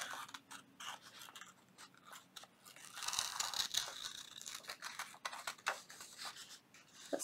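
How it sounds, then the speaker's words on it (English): Scissors loosely cutting out paper ephemera from an envelope for a junk journal, quiet close snips and crisp paper crunches repeating in an uneven rhythm, without talk. "So I'm just going to loosely cut this out."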